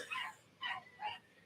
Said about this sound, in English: The dogs are going nuts out there.